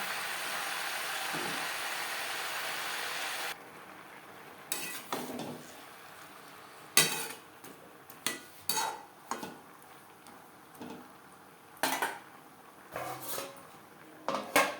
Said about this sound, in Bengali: সবজির সাথে পালং শাক বেশ ভালো করে মিক্স করে দেবো